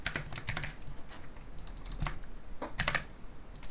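Computer keystrokes typed in short bursts and scattered single presses, with crisp close clicks and brief pauses between clusters while entering Python code.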